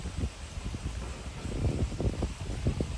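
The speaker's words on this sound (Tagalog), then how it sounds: "Mahangin po mga kababayan." Gusty wind buffets the microphone with a steady rumbling roar and irregular low thumps throughout.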